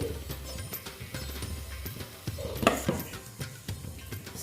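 Vegetarian soybean curry sautés in a pan with a steady low sizzle, punctuated by scraping stir strokes and a sharper clink of utensil on metal midway, no voices.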